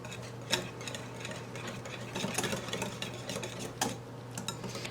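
Sugar-free, gluten-free pumpkin pie filling being whisked in a bowl, a steady soft scraping and stirring with occasional light clinks of the whisk against the side, close and continuous with no talking.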